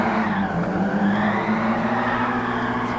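Nissan 180SX fishtailing in GT Sport on the Nordschleife, with a steady, loud tire skid and squeal over a droning engine, continuous and close throughout.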